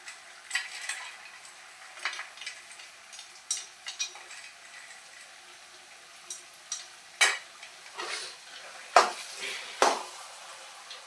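Gajar ka halwa (carrot halwa) stirred and cooking in a pan, a soft steady sizzle broken by repeated scraping strokes and clinks of the spoon against the pan, close and alone.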